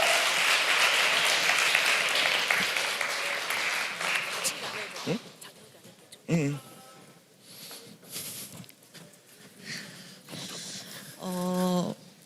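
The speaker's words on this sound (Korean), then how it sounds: "큰 박수로 환영해 주시기 바랍니다." A youth retreat audience gives loud applause as a student comes up to share a testimony. The clapping fades after several seconds into quieter room sounds and a speaking voice.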